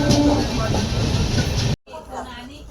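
A goods train rumbles past at a station in India, a loud, steady rolling roar with rhythmic wheel clatter that cuts off abruptly, leaving quieter ambience and faint voices.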